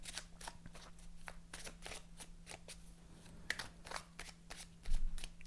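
A deck of playing cards being shuffled and cut, with a steady run of crisp riffling bursts and flicks close by, a low steady hum underneath and a louder thump near the end.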